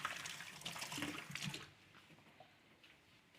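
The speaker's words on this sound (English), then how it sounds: "just gonna wash my hand here" Tap water running at a kitchen sink while hands are washed, a close splashing stream for about a second and a half before cutting off to quiet room tone.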